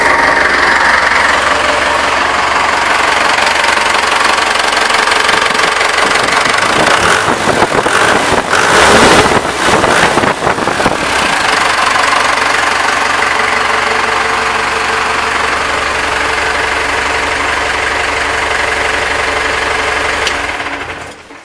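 A Dodge Power Wagon engine runs loud and close, a steady rough mechanical drone with a knocking, rattling texture and a brief surge partway through before settling back to an even idle.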